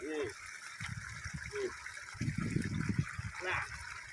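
Water flowing steadily through a channel in a rice paddy field with ripening grain, a faint continuous rushing under a voice talking outdoors.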